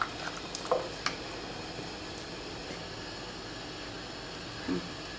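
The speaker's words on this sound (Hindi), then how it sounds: "अब इसको अच्छे से मिलाइए और गैस को ऑन करके इसको उबालने के लिए छोड़ दीजिए।" Sambar boiling in a pot on a gas stove, a steady soft hiss and bubbling with a few faint clinks early on and a brief bump near the end, no talking.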